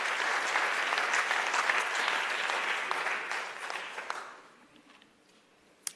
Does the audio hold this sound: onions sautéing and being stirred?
no